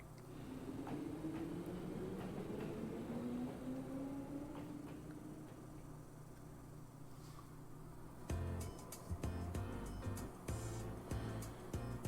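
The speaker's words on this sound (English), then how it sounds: "Yeah, so we're all getting on the same train." A train ride in the video game Trails of Cold Steel gives a low, steady rumble with a rising whine, then a rhythmic clatter of wheels on rails comes in louder toward the end.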